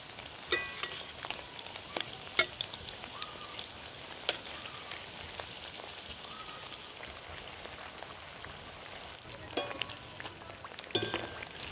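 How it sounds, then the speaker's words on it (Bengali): Steady crackling sizzle of wheat-flour laccha nimki pieces frying in hot oil, with occasional sharper pops and light clinks, no talking. "এখন নিমকিগুলো আস্তে আস্তে কিন্তু ভাজতে শুরু করে দিয়েছে"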